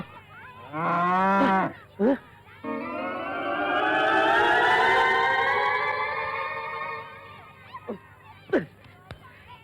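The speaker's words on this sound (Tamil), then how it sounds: "யார் அது மாட்டை வழியில கட்டி விட்டவன்?" A cow moos loudly and close by in a long, drawn-out call that rises and holds, with a shorter low call before it and brief sounds of people talking around it.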